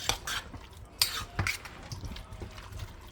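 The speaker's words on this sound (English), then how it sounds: "I'm going to go ahead and stir this around real quick." A spoon clinks and scrapes against a crockpot as beans are stirred, in a few soft, irregular knocks close by with a quiet wet shuffle.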